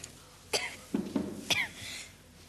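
A young girl coughs in a 1983 period television drama, a few quiet, separate coughs and throat sounds spread over a couple of seconds in a hushed room.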